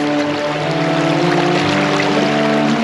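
Steady, loud rush of a fast-flowing, knee-deep stream near Lake Rhona, Tasmania, a dense continuous wash with a low mechanical hum running underneath throughout.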